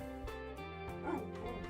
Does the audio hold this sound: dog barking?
yes